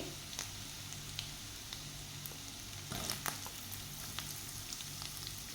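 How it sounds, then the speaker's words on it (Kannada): Chopped onions sizzle in hot oil with chillies for a curd curry, a steady close frying crackle with occasional stirring clicks and a brief louder burst midway. "ಚೆನ್ನಾಗಿ ಫ್ರೈ ಮಾಡ್ಕೊಳ್ಳೋಣ ಈಗ ಇದಕ್ಕೆ ಹೆಚ್ಚಿಟ್ಟಂಥ ಈರುಳ್ಳಿಯನ್ನು ಹಾಕ್ಕೊಳ್ತಾ ಇದ್ದೀನಿ"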